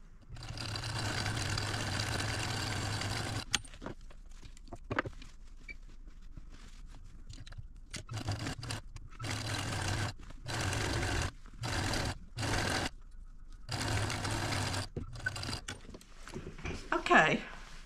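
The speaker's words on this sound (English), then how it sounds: "I'm going to take it over to the machine and I'm going to stitch real close to the edge here" A sewing machine stitches close to the edge of fabric to form a casing for quarter-inch elastic on a little girl's Christmas dress. One long run of stitching comes first, then short, stop-start bursts separated by quiet pauses.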